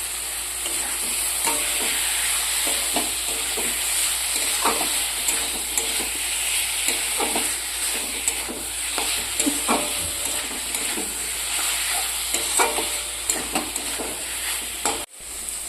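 Ground spices and mutton fat are stirred and fried in a pan for ghugni, giving a steady close sizzle with repeated scraping stirs throughout.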